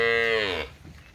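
Dairy cow mooing once, a loud close drawn-out lowing call that fades after about half a second, alone with no talk.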